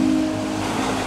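Offshore ocean waves heard from a sailing boat at open sea, a steady loud wash of surf and water rushing alongside, continuous for about a second with no talk.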